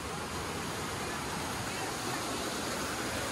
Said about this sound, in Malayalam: നല്ല സൗണ്ട് പറഞ്ഞ വെള്ളത്തിൻ്റെ സൗണ്ട്